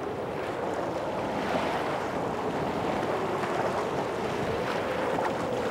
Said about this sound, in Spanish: Que se ven llegando las olas